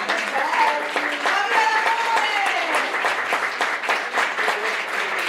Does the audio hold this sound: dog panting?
no